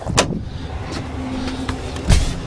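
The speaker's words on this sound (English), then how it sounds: "Window that opens into the bed" The power rear window of a 2008 Ford F-350 Super Duty FX4 opens into the truck bed, giving a short electric motor whir inside the cab between a couple of faint clicks and thumps.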